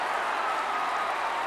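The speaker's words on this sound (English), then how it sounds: "Listen to the Limerick roars." A large crowd roaring at the 1974 Munster Hurling Final between Limerick and Clare in Thurles, a steady, loud wash of cheering and applause with no breaks.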